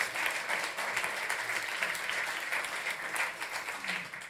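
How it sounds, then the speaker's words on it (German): Steady applause from a live cabaret talk-show audience fills the clip, a dense continuous patter of clapping at moderate volume. "Da gibt es jetzt Applaus."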